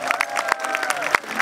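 Spectators clap for a youth roller skating show, a short burst of scattered applause at moderate volume, with a faint tonal background underneath.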